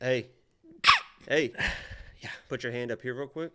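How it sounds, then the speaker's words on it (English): A single sharp, explosive sneeze bursts out near the start of a UFC 300 fight-predictions and betting discussion, flanked by casual conversation from the hosts before and after. "I have to sneeze."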